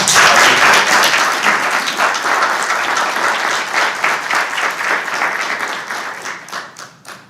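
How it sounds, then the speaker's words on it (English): Audience at a state education board meeting applauding, a steady dense burst of clapping that thins out and tapers off toward the end. "So I would like for the agency to just applaud them as well."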